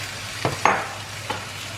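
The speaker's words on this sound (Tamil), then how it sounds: "இப்போ இந்த நல்லா மிக்ஸ் பண்ணி விடுங்க." A few brief, close scraping strokes of a spoon stirring mushrooms and chicken stock in a pot for ramen soup, over a low background hum, with no voices.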